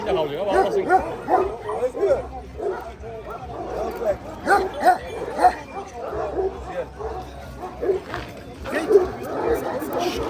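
Several dogs, including a Pointer-cross hunting dog among Kangal-type guard dogs, bark and yip in repeated bursts at close range throughout, with whimpering between, while people talk in the background.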